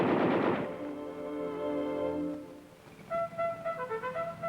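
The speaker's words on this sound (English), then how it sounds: "105mm cannon and 2 machine guns. All weapons can be fired from within." Machine guns on a tank armed with a 105mm cannon and two machine guns fire in a rapid dense burst at the start, then the rattle gives way to tonal ringing and a few sharper reports.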